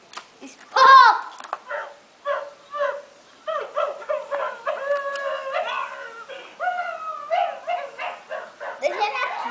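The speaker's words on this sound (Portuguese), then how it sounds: "Esse cachorro de Laurinha é meio zoado" A dog yips and barks repeatedly in an irregular series of short, close, loud bursts, with a few whimpery tones mixed in and no clear speech over them.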